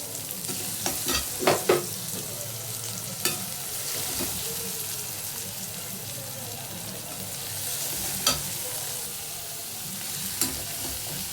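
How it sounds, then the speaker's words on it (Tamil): Onions stirred and sautéed in a frying pan while making an egg and brain stir-fry, a steady soft sizzle broken by sharp scraping clicks of the spoon at intervals, close and alone. "வெங்காயத்தை நல்லா வதக்கிக்கலாம்"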